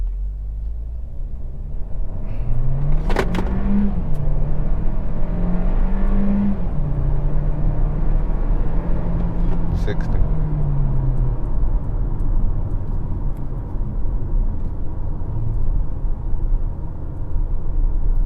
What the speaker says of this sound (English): I'll do a little acceleration to like about 50,